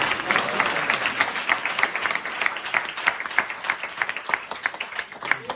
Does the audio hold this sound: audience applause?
yes